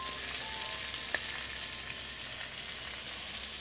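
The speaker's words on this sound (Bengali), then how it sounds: "মশলাটা আমি একদম খুব সুন্দর করে একদম দেখছেন, আলু পটল খুব সুন্দর কষে নিয়েছি" Potatoes and pointed gourd frying in a pan with spices and tomato give a steady, dense sizzle with faint stirring clicks, close and continuous, with no voices.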